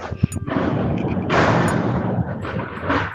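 Grenade blast in the online shooter Bullet Angel, with a sharp crack followed by dense, loud rumbling bursts and a second heavy wave of noise midway, tailing off near the end.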